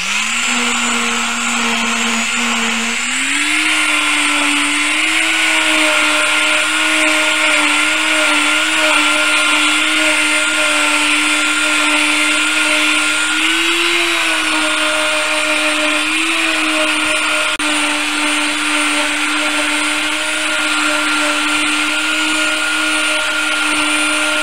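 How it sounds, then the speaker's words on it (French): A power sander works across a wooden board with a steady, loud, high whine whose pitch rises slightly after a few seconds and wavers as pressure changes. It runs continuously alone. "maintenant, je vais poncer toute ma planche"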